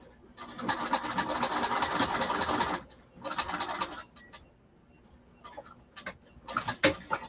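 A sewing machine stitches a gusset seam with the fabric under the presser foot, running in a steady loud burst, then a shorter run, followed by brief intermittent stitching and small handling clicks.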